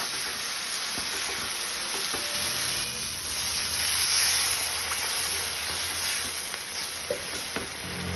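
Poppy seed and mustard paste sautéing in a hot pan with hot water added, producing a steady bright sizzle and hiss throughout, with faint stirring clicks and no talk.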